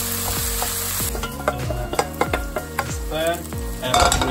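Ground meat for a traditional Italian ragù sizzling in a frying pan while a utensil repeatedly scrapes and breaks it up, giving a steady rhythm of sharp knocks over a continuous close hiss.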